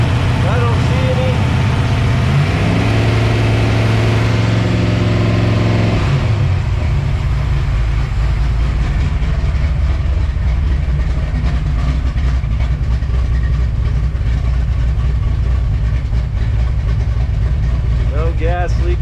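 A 1967 Ford Mustang being prepped for road racing runs at a steady, loud idle, its engine drone continuous and close throughout, with a brief rise in revs early on.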